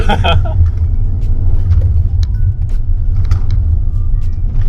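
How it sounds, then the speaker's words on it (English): A Volkswagen Arteon or Tiguan Allspace engine rumbles steadily with crunching and popping noises from the tires rolling over loose gravel, a faint voice briefly at the start. "the car gave way a little bit because of the loose surface"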